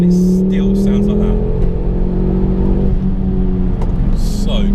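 A 2005 Ford Focus ST 2.5T engine revs loudly and close by, its pitch swelling and falling over a deep exhaust drone, with brief voice sounds over it.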